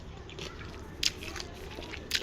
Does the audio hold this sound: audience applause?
no